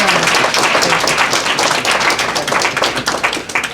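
Audience applause at a Moorish recognition certificate ceremony, close and loud, a crowd of hands clapping in a busy, uneven patter that thins slightly toward the end.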